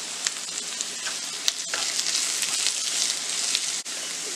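Boiled potato fry with chopped coriander sizzles in a pan, a bright, steady crackle with a few light clicks of stirring and a brief dip near the end, and no voices.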